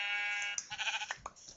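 A Minecraft sheep gives one wavering, buzzy bleat that comes in clearly after a steady electronic tone, with a couple of short soft game noises trailing off.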